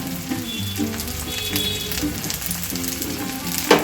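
Pieces of ivy gourd fry in hot oil in a pan, a continuous crackling sizzle with scattered pops and a brief louder clatter at the end.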